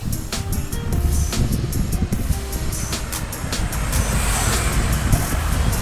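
Strong wind sweeps across the Coastal Road bridge in Davao City, a loud continuous roar that buffets and rumbles, with bursts of gusting throughout.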